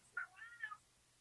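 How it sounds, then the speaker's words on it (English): A cat meows off camera: two short, fairly quiet meows in close succession, heard alone with no talking. "trying to strangle his cat off camera to stop it from meowing right now"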